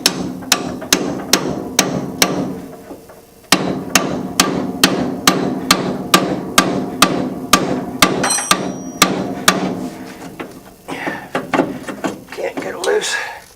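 A hammer strikes car suspension parts on a Nova during front-end work, landing sharp metallic blows in a steady rhythm of about two per second, pausing briefly, then resuming before ending in looser clanks and scraping.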